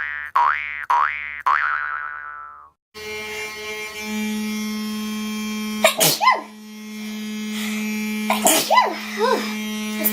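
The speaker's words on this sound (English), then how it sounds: "This always makes me sneeze." A person sneezes twice, sharp and close, over a steady electrical hum, after a few springy boing sounds at the start.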